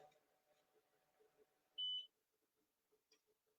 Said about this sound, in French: Vous avez entendu le bip de fin.